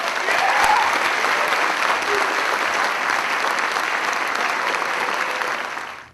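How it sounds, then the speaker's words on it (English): A crowd of soldiers and guests gives loud, sustained applause for newly inducted NCOs at an Army ceremony, a thick, even roar of clapping that fades out abruptly at the end. "Please give a round of applause to the newly inducted NCOs."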